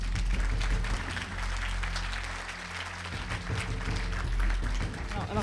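A large crowd applauds at an awards ceremony for real estate investors, with dense continuous clapping and cheering that stays loud from start to finish while voices mix in underneath.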